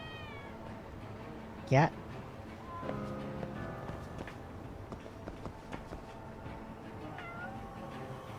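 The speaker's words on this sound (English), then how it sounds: "she was looking at the kitty cats" A cat gives one brief, loud meow in Lost Judgment, standing out above quiet game ambience and a short spoken word.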